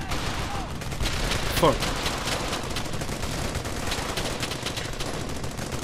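Dense gunfire in the World War II shooter Brothers In Arms: Hell's Highway, a continuous loud fusillade of overlapping shots with a brief whistling streak, and a man swearing over it.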